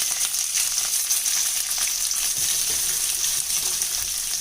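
Onions, mustard seeds, dals and green chilli fry in hot oil in a pan, giving a steady, close, bright sizzle with a little stirring and no talk.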